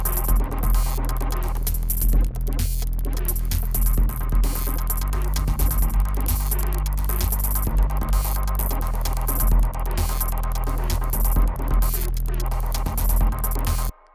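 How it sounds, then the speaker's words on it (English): A melodic electronic sample loop in Ableton plays continuously with a steady low pulse, washed in reverb and softened by filtering, ending abruptly. "let's just give this sort of more melodic version here a little bit of reverb for context"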